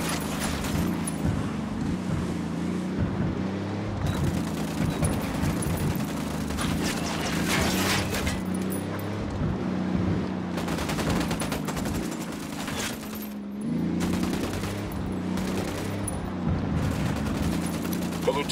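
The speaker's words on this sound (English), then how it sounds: "Open fire." Rapid automatic gunfire and repeated shots crackle through a firefight in the video game Ghost Recon Wildlands, continuous and dense for most of the stretch over engine rumble, with voices speaking in between.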